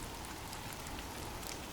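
Steady, soft rain falls continuously, a fine even hiss of drops with no other sounds.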